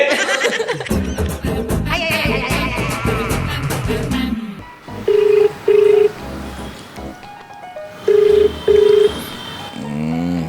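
Two pairs of ringback tones sound after a burst of music and chatter, each pair repeating with a pause, while the call goes unanswered.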